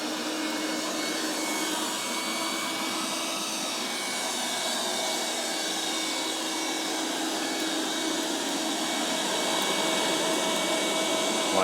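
A Eureka robot vacuum cleaner running on auto mode at maximum suction gives a steady, loud, broadband whir with a constant motor tone that holds unchanged throughout, close by with no talk.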